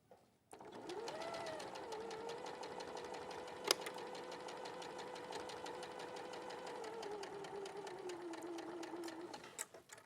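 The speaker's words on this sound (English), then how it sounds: "So I'm just going to sew these." A sewing machine stitching flannel squares together runs steadily for about nine seconds in a fast, even mechanical patter, close and clear, with a brief click near the middle and no talk.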